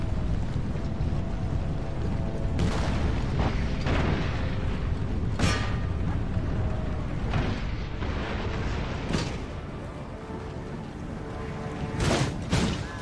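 Cannon and mortar fire in the game Empire: Total War: a string of sharp booms, some close together and others spaced seconds apart, bursting out of a constant loud roar of battle ambience, with no talking.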